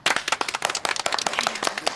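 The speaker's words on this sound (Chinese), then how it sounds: "大家鼓掌。" A small group of people clapping together, a quick run of sharp, closely spaced handclaps, close and fairly loud throughout the short burst.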